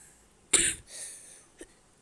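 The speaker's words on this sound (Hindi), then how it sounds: "वीडियो के बीच में खांसी हो जाता है यार" A single sharp cough close to the microphone, followed by a softer trailing exhale and a faint small sound afterward.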